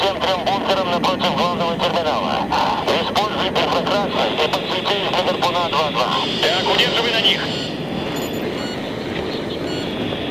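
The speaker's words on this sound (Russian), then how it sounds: "У нас тут еще один истребитель рулит к взлетной." A fighter jet taxis toward the runway in Battlefield 3, its engine a steady loud whine and rumble beneath continuous in-game voice chatter, easing off toward the end.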